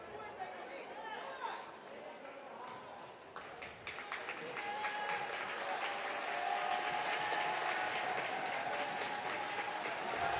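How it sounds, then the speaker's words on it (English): High school basketball crowd claps rhythmically during a free throw, fast sharp hand claps from many people building steadily and growing louder over the crowd murmur, with faint talk underneath. "the clapping doesn't faze Mr. Onick, apparently."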